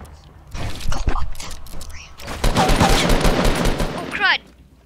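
Gunfire in a video game, loud, rapid bursts of shots in two clusters over a few seconds, mixed with mechanical clicks and a brief whine near the end, with voices talking underneath.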